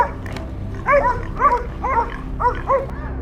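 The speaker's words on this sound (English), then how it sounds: "They quickly sniffed, barking loudly to signal that they had discovered the target." Hunting dogs tracking a wild boar in a garden give a run of about five sharp barks spaced roughly half a second apart, fairly close, with little else around.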